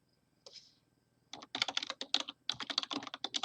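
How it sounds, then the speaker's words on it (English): Rapid typing on a computer keyboard, a short burst of clicks followed by a steady, dense run of keystrokes close by, with no talking. "I can't talk about one thing and type something else."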